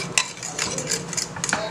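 A utensil stirs and scrapes through a seasoning mixture for Barbados-style BBQ pigtails, producing quick clinks and scraping strokes against a bowl, close and fairly loud.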